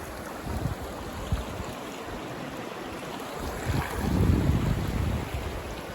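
River water rushing along both sides of a canoe on the Catawba River, a continuous washing hiss with wind buffeting the microphone and a louder surge near the end.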